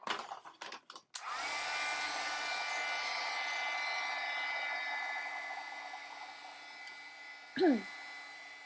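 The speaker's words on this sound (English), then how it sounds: "Now I'm going to heat dry it with my heat tool" A heat tool blows steadily while drying a handmade Christmas card. The sound opens with brief rustling, then becomes a continuous whooshing whir that holds for several seconds and fades slightly, with a short clunk near the end.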